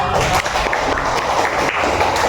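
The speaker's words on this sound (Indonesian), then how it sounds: "Tepuk tangan dulu, Pak." A classroom audience breaks into applause, a steady patter of many hands clapping at close range that continues throughout without clear voices.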